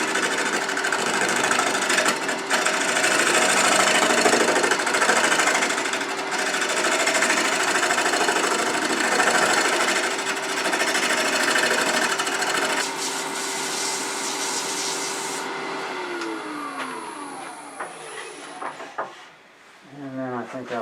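A wood lathe spins a turned bowl while a turning tool scrapes and flattens its bottom, a continuous rough grinding hum with a steady tone, easing off and stopping near the end.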